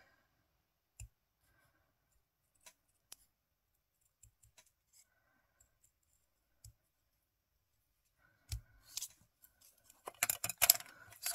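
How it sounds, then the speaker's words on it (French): Scissors cutting paper for scrapbooking: a few sparse, isolated snips spread apart, then a denser run of quick, crisp cutting sounds toward the end, close and clear with no talking. "Et on va venir couper."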